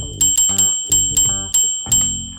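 Cartoon doorbell ringing in five quick bright dings, each ringing out and fading before the next, loud and close with no talk.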